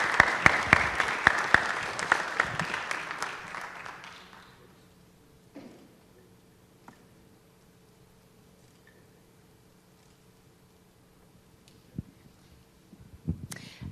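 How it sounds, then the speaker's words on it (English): An audience applauds at a city transit trust event honoring young people, a dense burst of clapping that fades out after about four seconds, leaving near silence with a few faint taps and a brief return of claps at the end. "give another round of applause to these young people that are here"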